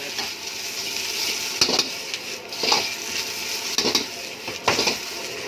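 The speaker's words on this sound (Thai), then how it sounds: "ผัดไปเรื่อยครับใช้ไฟอ่อน" Vegetables for fried rice stir-fry in a pan over low heat, a constant close sizzle with the spatula scraping and clanking against the metal in irregular strokes, without any talking.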